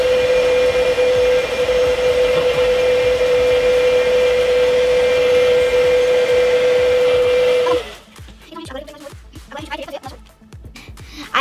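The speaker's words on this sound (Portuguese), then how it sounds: "Agora eu vou só passar de novo o secador para secar essa base que a gente quer bem sequinho." A hair dryer blows steadily to dry makeup base, a loud continuous whirring drone with a high whine lasting about eight seconds, then cutting off and leaving quieter background rustle.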